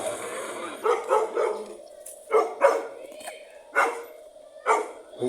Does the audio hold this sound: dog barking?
yes